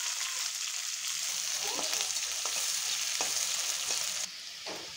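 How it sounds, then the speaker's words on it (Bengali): Onion frying in plenty of hot oil with bay leaf, dry red chilli and five-spice seeds, a dense close sizzle with scattered crackles and pops from stirring, dropping slightly quieter near the end. "তেলেতে দিলাম, পেঁয়াজটা একটু লাল করে ভেজে নিয়ে"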